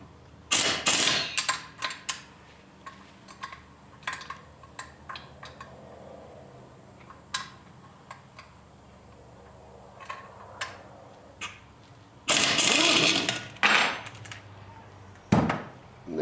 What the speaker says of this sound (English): I'm just going to use an impact on it to loosen it off.